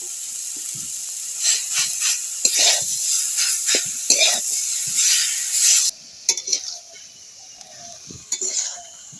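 Pieces of chalta, or elephant apple, are stirred in a pan for a sweet-sour pickle, with repeated close scraping and clinking strokes over a light hiss and a brief sizzle.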